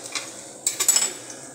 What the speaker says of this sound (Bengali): আমি দুইটা কড়াতেই রান্না বসিয়ে দিই।